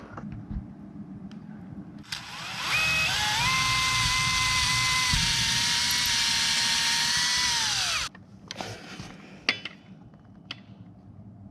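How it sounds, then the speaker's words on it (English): A power drill bores at an angle into an overhead ceiling. It whines loud and steady for about six seconds, the pitch stepping and sagging under load, then stops, leaving scattered faint clicks and handling noises. "rather than drilling straight up, I'm going to actually drill at an angle"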